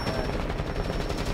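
Rapid automatic gunfire in Rainbow Six Siege, a dense rattling stream of shots that runs continuously and loudly through the whole moment.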